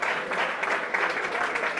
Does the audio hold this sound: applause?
yes